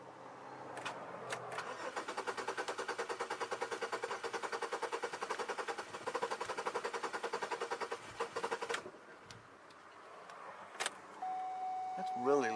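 A Chevrolet Malibu engine sputters at low RPM in a fast, rough, pulsing rattle for several seconds, then dies away, followed by a few clicks and a rising electronic chime.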